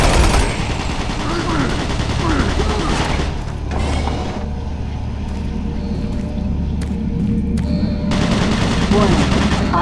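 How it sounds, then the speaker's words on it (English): Automated turret guns blaze in Doom 3 BFG Edition, a dense, continuous burst of rapid gunfire with booming rumble that runs steadily, loud and close, throughout. "Warning, automated turret guns online."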